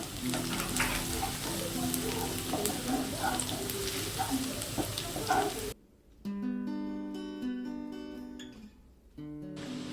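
Julienned ginger sizzles and fries in hot oil in a pan for an egg tadka, a loud continuous crackle with occasional stirring, followed by quieter stretches where background music plays.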